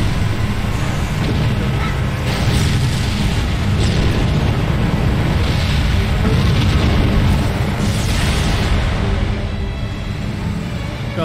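Rocket launcher explosions in Halo: Combat Evolved, a dense, continuous rumble of booms and blasts from a battlefield, loud throughout with several heavier bursts standing out.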